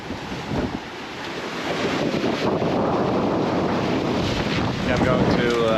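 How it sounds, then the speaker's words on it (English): A sailboat's staysail flogs in strong wind while sailing in the open Atlantic, heavy wind buffeting and rushing water forming a loud, steady wash throughout. "I'm going to put some more tension on the stay sail here. It's flogging around a bit now."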